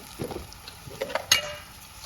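Mashed potatoes go into a pan of stuffing mix and get stirred, giving a few soft scrapes and light sizzling clicks with one sharper clink of the spoon on the pan.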